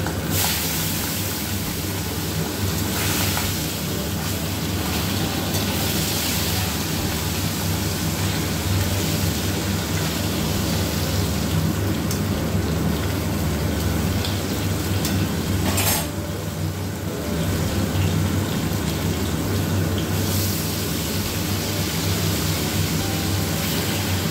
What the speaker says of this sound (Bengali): এইবার এই পার্শে মাছগুলো ভেজে নেব।